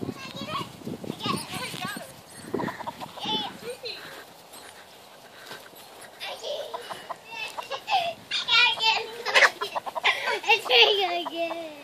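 Chickens clucking and squawking excitedly while one attacks and tries to eat a mouse outdoors: rapid bursts of clucks and higher calls, growing louder toward the end, mixed with children's voices and talk.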